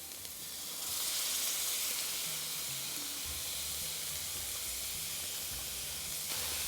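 Tomato paste hits a hot pan of cooked-out onion masala paste for a family curry, setting off a loud, steady sizzle and hiss that holds close throughout with no voices.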